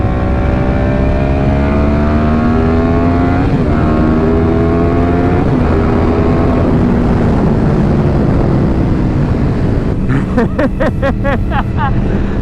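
An older Yamaha R1 sport motorcycle drones loudly and steadily while riding through big sweeping corners, the engine pitch easing and rising between gear changes under steady wind roar, ending in a burst of rattling buffeting.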